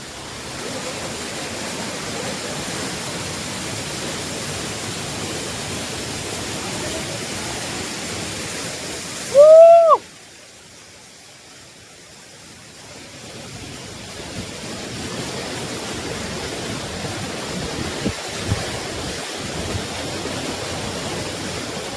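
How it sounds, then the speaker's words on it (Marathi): The Palasdari waterfall roars as a steady broadband rush, briefly overlaid by a short two-note whistle-like chirp midway, after which the water noise dips and slowly swells back with a few faint knocks. "वॉटरफॉल पण तुम्ही बघताय किती मस्त"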